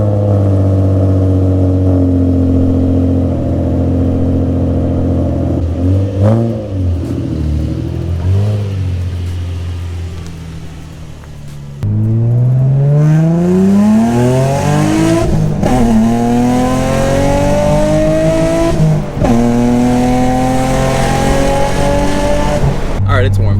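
Infiniti G35 engine running on a test drive, a loud steady drone with rising revs as it accelerates through gears, a brief lift-off dip midway, and talk over it.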